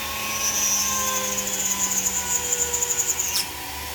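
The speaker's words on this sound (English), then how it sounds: "I'm going to start my drill press." A drill press runs with a steady high whine as a burr drills gently into stained glass, a faint rhythmic grinding pulsing near the end before the tone abruptly drops away.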